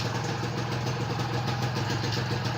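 Honda Nova Tena four-speed motorcycle engine running steadily at close range, a continuous even idle-like drone with no gear change clearly audible.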